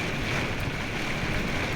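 Strong wind during a rainstorm roars steadily in broadband noise with low buffeting rumbles throughout, no voices present.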